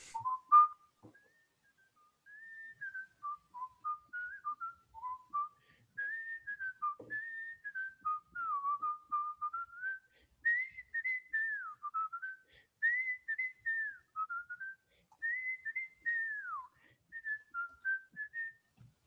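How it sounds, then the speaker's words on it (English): A lone person whistles a well-known musical intro, a clear, steady melodic line of connected phrases with brief breaths between them, close to the mic and with no talking over it. "it has a very famous whistling musical intro, and I'm going to give you a little bit."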